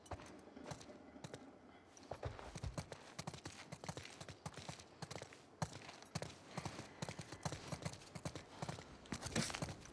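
Horse hooves clip-clop steadily on the ground in The Last of Us Part II, a brisk rhythmic gait that carries through the whole stretch. Faint game sounds sit underneath, and there is little or no talk.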